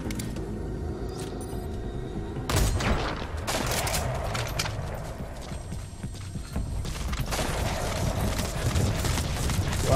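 Game gunfire in Metal Gear Solid V: The Phantom Pain, repeated shots and bursts over a rumbling, clattering action background, with loud impacts scattered through a busy mix.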